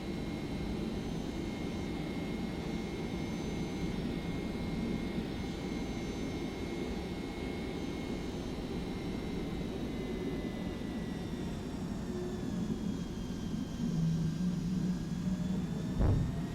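Jet engines of a FlightFactor Boeing 767-300 roar steadily through takeoff in the X-Plane 10 flight simulator, a constant loud drone with high whining tones that shift upward toward the end.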